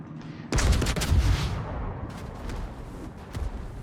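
Battleship main guns firing in a naval video game, a sudden heavy booming salvo that rolls into a long rumbling decay, with a smaller thud near the end.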